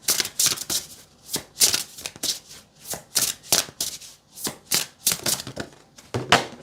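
Tarot card deck being shuffled: repeated crisp riffling bursts, about a dozen in quick rhythm, close and moderately loud with short pauses between, no talk.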